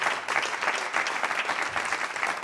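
A live show audience applauds a performer, dense, steady clapping filling the room at even strength throughout.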